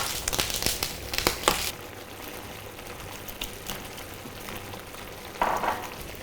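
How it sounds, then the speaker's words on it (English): Sliced courgettes fry in a pan with a steady close sizzle, broken by bursts of stirring and scraping at the start and again near the end, with no talk. "The courgettes are cooking nicely"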